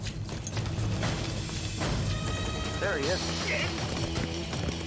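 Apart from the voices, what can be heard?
horse hooves galloping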